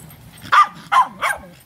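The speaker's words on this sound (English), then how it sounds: "barking with a little squeaky girl bark" A small dog gives three sharp, high-pitched barks in quick succession, close by, with quiet pauses between them.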